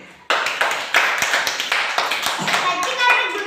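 A group of children claps at a school science fair after a demonstration of electric current passing through a wet stick. The clapping is close and comes in quick rhythmic bursts, with children's voices mixed in.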